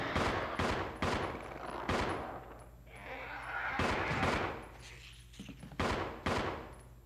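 Resident Evil video game gunfire cracks out in sharp repeated bursts, loud close shots arriving in irregular clusters separated by brief quieter gaps.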